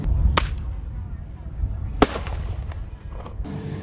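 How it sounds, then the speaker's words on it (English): Bird banger pyrotechnics burst like very large firecrackers, with two sharp, loud cracks about a second and a half apart and a smaller pop afterward, echoing outdoors over a low rumble of background noise. "This is what they call a banger, a bird banger."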